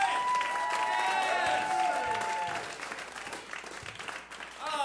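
Audience applause fills a comedy club in Ventura Harbor, a dense steady clapping with scattered whoops that thins out after a few seconds, and a faint voice cuts in near the end.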